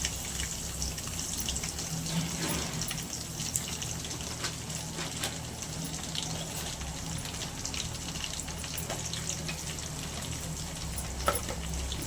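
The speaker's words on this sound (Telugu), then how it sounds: "ఎల్లిపాయలు వేసుకున్నాం కదా అవి మగ్గుతున్నాయి" Garlic sizzles in hot oil with mustard seeds, cumin and chana dal for a tomato pickle, a soft steady crackle and hiss with scattered faint pops, continuous and even throughout.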